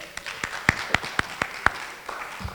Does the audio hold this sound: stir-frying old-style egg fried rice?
no